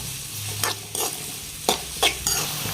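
Chopped onions frying on high flame, with a steady sizzle broken by five or six sharp scraping stirs of a spatula in the pan, close and clear with no voices.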